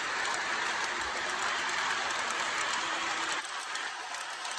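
A roughly 20-year-old model train rolls steadily past on its track, a continuous dense rumble and clatter up close that eases slightly near the end.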